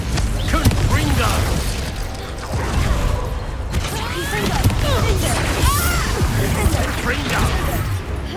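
A Confringo fire spell from Hogwarts Legacy bursts repeatedly amid dense, noisy combat, with crashing impacts and mechanical clatter layered over a constant low rumble and scattered creaks.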